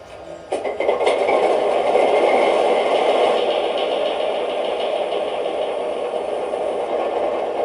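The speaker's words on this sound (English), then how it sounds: "now we're going to go ahead and start this locomotive up" An MTH Railking Alco RS1 model diesel locomotive starts up with a sudden loud burst, then settles into a steady, clunky mechanical engine drone that holds alone with a slight rattle.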